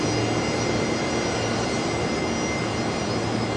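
Virgin Australia jet landing with full reverse thrust at Brisbane Airport, a steady, loud, broadband engine roar that holds constant without a break.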